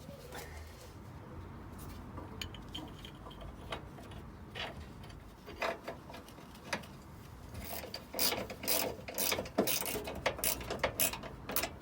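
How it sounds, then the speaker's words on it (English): A ratchet wrench works on rear suspension bracket bolts, tightening them bit by bit in a workshop, with quiet, irregular clicking and metallic ticks that grow louder and busier toward the end. "So we just do this up bit by bit on each bolt just so that the bracket settles properly."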